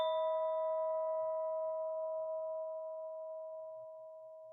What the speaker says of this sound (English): I'm going to ring the bell, and we're going to listen to the sound from the very first moment that it starts all the way to the end